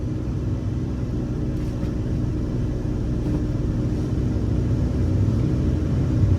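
An old Dodge truck engine runs with a steady low rumble while the driver tries to shift gears, the drone continuous and close, with little change in pitch.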